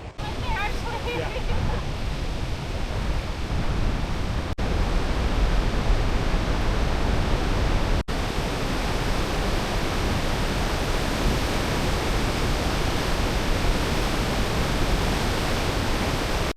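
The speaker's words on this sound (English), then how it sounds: "Just got to Sunwapta Falls. This is just south of Jasper." Sunwapta Falls, a waterfall just south of Jasper on the drive from Banff, gives a steady, loud, broadband roar of rushing water that holds unbroken for the whole stretch, close and constant.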